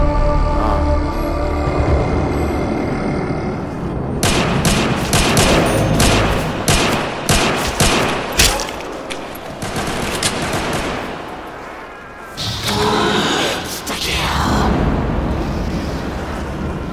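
Rapid gunfire in the Call of Duty World at War custom zombies map Nuketown, dense bursts of close, loud shots in quick succession with a pause and a further rumbling volley, no talk over it.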